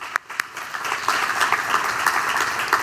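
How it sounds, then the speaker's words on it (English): An audience at a community health summit applauds steadily, a sustained mid-distance wash of many hands clapping with a couple of sharper claps at the start. "Round of applause for them."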